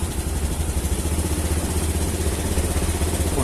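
A Honda Scoopy FI scooter engine, fuel-injected and checked for fuel pump pressure, idles steadily and loudly up close with an even low rumble and light clatter throughout, no talking.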